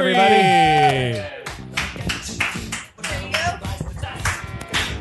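An audience applauds a comedian at a live comedy show. A loud voice introduction comes first, followed by a few seconds of scattered, close clapping.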